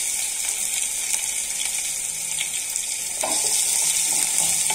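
Finely chopped onions hit hot oil in a pan for palak paneer, a loud continuous hissing sizzle that swells partway through, close and steady with no talk.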